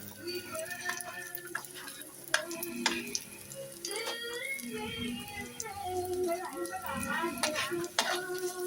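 Garlic browning in a pan, stirred with a spatula that clinks and scrapes over a soft sizzle, while people talk nearby.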